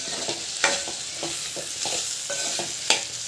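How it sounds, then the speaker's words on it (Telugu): Ivy gourd (dondakaya) frying in a pan gives a steady close sizzle, with a few sharp scrapes and knocks as it is stirred now and then. "దొండకాయ మధ్యలో మధ్యలో కలబెట్టుకుంటే ఇట్లా ఫ్రై కానివ్వాలి"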